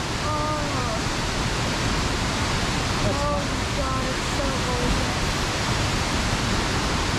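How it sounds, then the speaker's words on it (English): Panther Creek Falls roars as a steady, loud, broadband rush of falling water that fills the whole scene without letting up. Voices of people talking can be heard faintly over it. "This is Panther Creek Falls."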